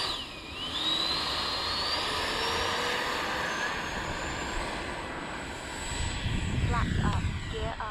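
A Freewing F-16 70mm electric ducted-fan RC jet flies overhead, its whining fan rising and sweeping in pitch as it passes, a steady rushing roar at moderate distance with people talking faintly outdoors.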